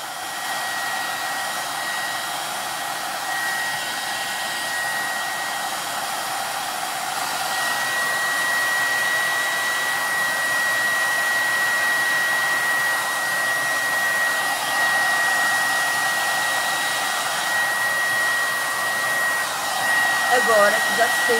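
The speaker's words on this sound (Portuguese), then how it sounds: "Se vocês quiserem secar com a escova, o que eu faço é rodopiar o cabelo." A hair dryer runs steadily and loudly for the whole stretch while hair is blow-dried with a brush, with a continuous airy roar and a faint steady whine and no talking.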